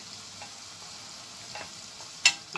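Onions caramelizing with a spoonful of sugar are stirred in a pot, giving soft scraping strokes over a faint sizzle, with a sharper scrape near the end.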